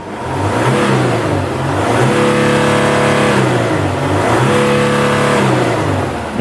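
Engine of a Mercedes Sprinter van running close by after a NOx sensor repair, loud and steady, with two rising and falling swells that sound like revving.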